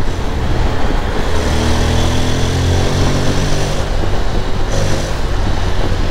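A 2024 Honda X-ADV 750 scooter engine revs hard under acceleration, a loud, steady, close roar with rising harmonic whine holding for several seconds over road noise.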